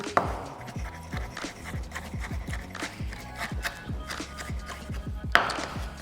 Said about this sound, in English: a full thumb-size piece of ginger here, which I'm also going to give it the chopping treatment